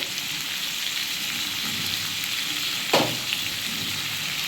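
Dry spices hit hot oil in a pan of fried radish and melted tomato for a Bengali moong dal, giving a loud, steady close sizzle with a brief stirring scrape partway through and no talking.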